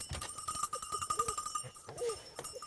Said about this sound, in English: I like to use a dog bell just because of the tradition of being able to hear the dog